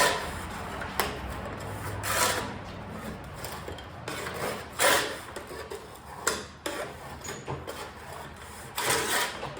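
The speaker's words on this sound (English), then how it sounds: "I'll show you that I am actually going to deburr this" A sharp sheet-metal edge of a fan shroud is deburred by hand in a series of separate rasping scrapes and rubs, irregular and fairly close, with quiet pauses between strokes.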